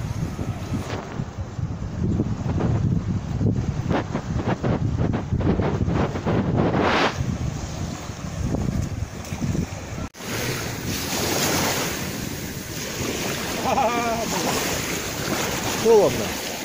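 Sea waves wash onto the beach at Anapa, a steady roar of surf mixed with heavy wind buffeting the microphone, the texture shifting midway.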